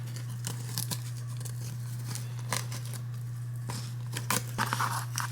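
Scissors snip yarn on a cardboard loom in a string of quiet, crisp cuts over a low steady hum, with no voices.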